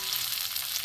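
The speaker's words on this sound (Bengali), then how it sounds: "তেলের মধ্যে রসুন দিয়ে দেবো, এখানে পেঁয়াজ কুচি আছে দিয়ে দেবো। এটা তখন ভাজা হোক" Garlic and chopped onion fry in hot oil in a wok for an egg curry, giving a steady, soft crackling sizzle with no talking.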